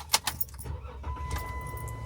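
Keys jangle in a few quick, close shakes as someone gets into a car after a morning run, followed by a quiet cabin hum and a faint steady tone from the car.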